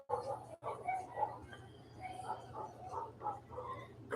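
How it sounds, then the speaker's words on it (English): Several dogs bark faintly in the distance outside a residence, scattered yaps and barks repeating over a low hum in a quiet room. "These fucking dogs bark all day too."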